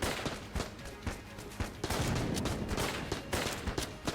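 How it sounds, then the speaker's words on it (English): Rapid video-game gunfire in Enter the Gungeon while shooting at a boss, dense overlapping shots and bursts firing continuously throughout, loud and close. "I'm just gonna be shooting the boss until he's dead."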